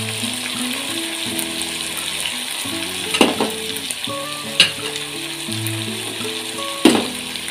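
Bitter gourd being sautéed in a pan with onion, garlic and tomato, a steady loud sizzle with sharp spatula scrapes and clinks, under faint background music.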